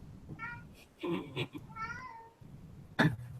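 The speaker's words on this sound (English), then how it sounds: "Is that a cat?" A cat meows several times in the background, with short, higher mewing calls scattered over a few seconds and faint sounds of people in the room.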